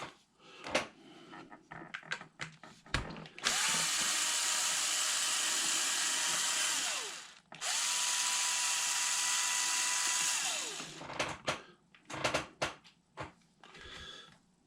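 A power driver removes crush drive bolts on a Traxxas Maxx RC truck: two long, loud whirring bursts of about four seconds each, framed by clicks and handling of parts.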